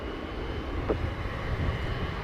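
An airliner at Montego Bay airport, Jamaica, gives off a steady, fairly distant engine rumble with a broad roar that holds evenly throughout, with no voices.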